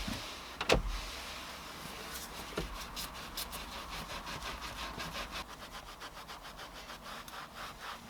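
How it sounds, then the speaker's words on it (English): A Swiss Vax wheel brush scrubs the steering wheel of a filthy Volkswagen work van, making fast, close, rhythmic bristle rubbing strokes that run steadily throughout with no talking. "Using the Swiss Vax wheel brush, I'll agitate the product into all areas of the steering wheel"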